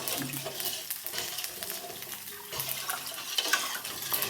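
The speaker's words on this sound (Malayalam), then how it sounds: "അപ്പോൾ വെള്ളം ഒഴിച്ചു കൊടുക്കാം" Water is poured into a pot of roasting coconut pieces for payasam, a fairly faint, continuous splashing pour mixed with sizzling and stirring, without voices.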